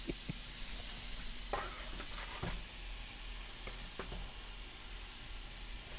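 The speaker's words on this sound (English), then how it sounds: "Ooh, you hear that sizzle? That's the sound you want to hear." Carne asada skirt steak sizzles steadily on a hot grill, a soft constant hiss with occasional pops and crackles, close by and fairly quiet.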